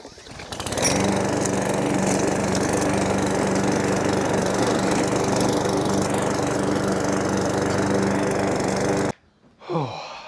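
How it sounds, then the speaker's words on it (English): A lawn mower runs steadily while mowing, its loud, even engine drone holding close by for about nine seconds before cutting off abruptly, followed by a brief faint swish. "This is how you're supposed to mow."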